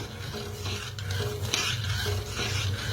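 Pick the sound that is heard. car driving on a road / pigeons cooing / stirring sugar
stirring sugar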